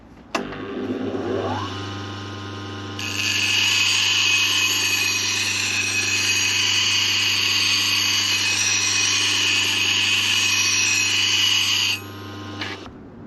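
A blade is worked freehand across a sharpening stone, a loud, unbroken hiss of rubbing that runs for around nine seconds near the mic after a softer lead-in, then stops abruptly.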